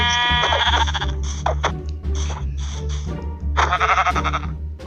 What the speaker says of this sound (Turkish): Aa koyun var.